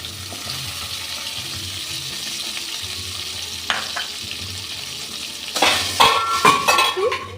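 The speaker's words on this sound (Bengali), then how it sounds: "আমি এটাকে একটু হালকা ভেজে নেব।" Whole green chillies fry lightly in oil in a pan, with a steady soft sizzle, then louder clattering of a utensil stirring and scraping against the pan near the end, close up and without speech.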